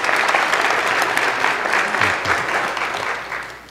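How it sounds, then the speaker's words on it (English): A church congregation applauds in the sanctuary, a full, steady round of clapping from many hands that gradually tapers off toward the end. "give them a round of applause"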